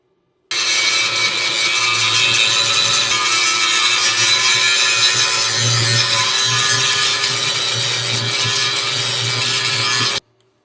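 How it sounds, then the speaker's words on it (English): An angle grinder works over welds on a small utility trailer under repair, giving a loud, continuous abrasive whine that starts abruptly, holds steady for about ten seconds and then cuts off. "We're gonna grind them up a little bit."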